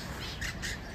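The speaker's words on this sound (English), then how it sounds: "It's a rainbow lorikeet." A rainbow lorikeet at Auckland Zoo gives two short, harsh squawks against a noisy background, fairly faint.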